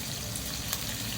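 White wine poured into a hot pan of shrimp pasta: a steady, close, loud sizzling hiss that covers the whole moment, with a faint splash and no voices.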